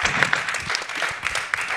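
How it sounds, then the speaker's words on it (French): Short burst of audience applause for the hosts of a round table on health-policy ethics, dense clapping from a seated crowd, fairly close and steady for under two seconds. "je pense qu'on peut les applaudir"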